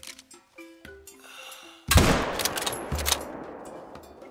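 A single sharp rifle shot cracks out at a female warthog in the hunting game theHunter on the Vurhonga Savanna, a sudden loud blast after a quiet stretch, followed by a rumbling echo and a second thud.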